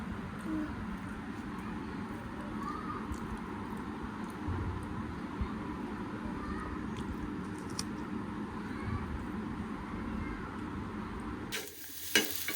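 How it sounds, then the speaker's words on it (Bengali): Pulao, spiced rice, cooking in a pot on a home stove, a soft steady sizzle and bubbling hiss at low level running throughout, with a clattering handling noise right at the end. "আরাফের জন্য জাস্ট একটু পোলাও রান্না করতেছি"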